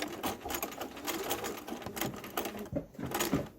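A domestic sewing machine stitches fabric face masks in steady close-up bursts of rapid needle clatter, briefly pausing and restarting near the end.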